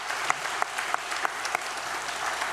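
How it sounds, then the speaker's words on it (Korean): Congregational applause during a Sunday church worship service, a soft, moderately distant wash of clapping with a few sharper individual claps spaced roughly evenly through it. "우리 이들을 위해서 한번 격려의 박수를 쳐줬으면 좋겠습니다"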